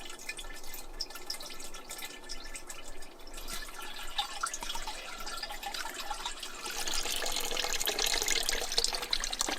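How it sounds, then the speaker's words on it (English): Elderflower champagne strains through a tea towel into a bucket with a faint, steady trickle and patter of liquid that grows slightly fuller toward the end. "So we've almost got it all strained through the tea towel now."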